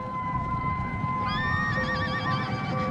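Horses of Mameluke cavalry whinny in a battle charge, several rising, wavering neighs layered over a dense, continuous roar of galloping and battle noise, loud and close.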